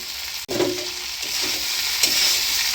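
A fried egg being stirred into a potato filling in a pan for a snack made with flour, egg and potato, with a steady sizzle broken by soft scraping and stirring strokes.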